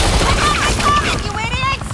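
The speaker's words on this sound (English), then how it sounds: "You cops can't just shoot people like that!" Police officers opening fire in the Batman: The Enemy Within video game, Episode 5: loud, dense bursts of rapid gunshots running throughout, layered with game voices and tonal effects.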